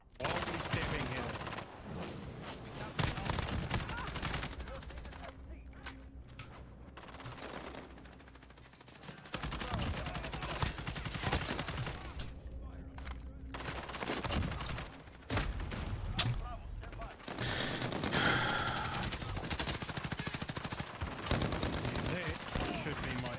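SMG gunfire in a Modern Warfare video game match, with dense rapid bursts and overlapping shots running almost throughout, loud and close, with game effects mixed in.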